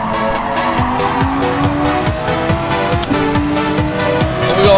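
A race car in Gran Turismo Sport brakes hard: a loud engine note drops through rapid downshifts, each blip sliding in pitch, with a steady rasp of tires and wind underneath, sustained and close throughout.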